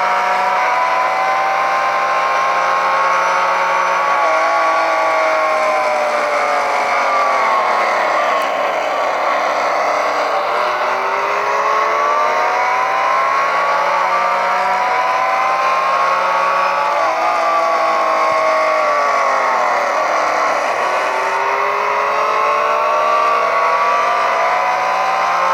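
A Ford race car at Le Mans in Real Racing 3 holds a loud, continuous engine roar, its pitch climbing and dipping through gear changes, close and constant with no talk.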